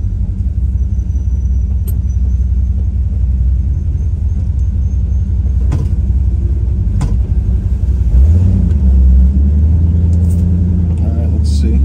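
A 1955 Chevrolet Bel Air idles and drives with a low engine rumble, then pulls away with a rising throttle surge during a U-turn, heard from inside the car.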